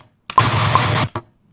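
A heavily distorted modern metal guitar with a glitch effect blasts a loud, dense burst that cuts off abruptly, followed by one short chopped stutter before silence.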